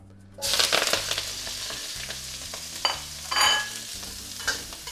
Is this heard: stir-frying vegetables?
yes